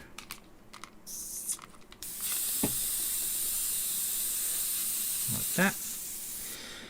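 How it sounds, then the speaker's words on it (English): Airbrush spraying continuously as leftover paint is washed out, a steady close hiss running for several seconds after some light clicking, with brief faint voice sounds over it. "So I'm just washing out the remainder of that paint out my airbrush."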